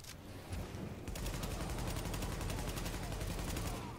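Sustained rapid gunfire in The Division, during an apartment mission, with dense overlapping bursts that run almost unbroken for several seconds and stay loud throughout.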